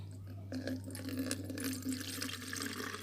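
Liquid fertilizer made from soaked potato peels and rice-washing water is poured onto plants, giving a steady, close splashing pour that runs continuously after a brief quiet start.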